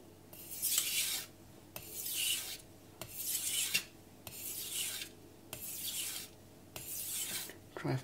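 A knife scrapes across a Miyagoshi whetstone in long, even strokes, about six rasping passes separated by short pauses with small clicks, close and clear with no talk.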